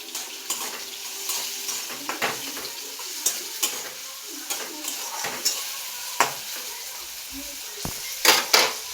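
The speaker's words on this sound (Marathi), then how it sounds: "कांदा टोमॅटो मी हलवून घेते बघा" Onion and tomato are stirred in a pan with repeated spatula scrapes and clinks over a steady sizzle, the strokes coming in an uneven rhythm.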